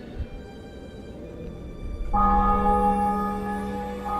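Church bells ring out in The Witcher 2, starting abruptly after a quiet stretch and sustaining a loud, resonant, overlapping toll with steady hum beneath.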